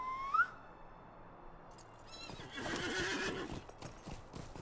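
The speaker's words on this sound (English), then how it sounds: "And we'll hop on our horse." A horse whinnies at the start, then rhythmic hoofbeats come in as the horse is mounted and ridden in the online game Lord of the Rings Online, clip-clopping steadily at moderate volume.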